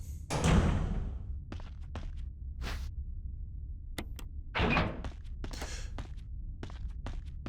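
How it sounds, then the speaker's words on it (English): A door locking in the Resident Evil REmake video game, a heavy mechanical thud and clunk near the start followed by scattered footsteps, clicks and another low thump in a quiet room. "Note that you heard the door locking there"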